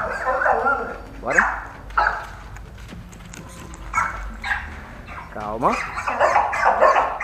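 An agitated dog yips and whimpers in short repeated bursts, close by, while a person speaks to it in a calming voice.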